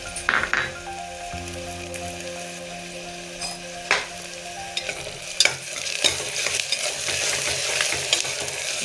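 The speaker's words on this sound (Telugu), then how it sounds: "ఇలా దూరగా వేయించుకున్న తర్వాత అల్లం వెల్లుల్లి ముద్ద వేసుకున్నాం." Ginger garlic paste frying in a pan for tomato rice bath, a close crackling sizzle with stirring scrapes and a few metallic clinks, growing busier toward the end.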